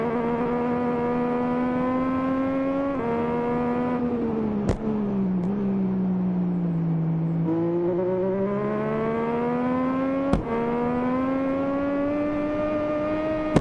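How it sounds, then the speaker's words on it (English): Upgraded Triumph motorcycle engine on Isle of Man roads, a steady loud drone rising and falling in pitch as it pulls through gears, with two brief sharp clicks or bumps along the way. "Definitely I can hear a difference in the engine."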